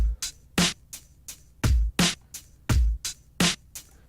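An unchopped drum beat loop from a game soundtrack plays alone, a steady pattern of punchy kick drums and crisp snare hits repeating evenly over about four seconds.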